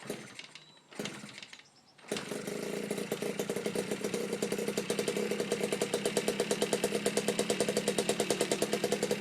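A Yamaha QT50 moped engine with a Ripper kit, cold and without choke, sputters through a couple of cranking attempts, catches, and settles into a fast, steady, throbbing idle close by.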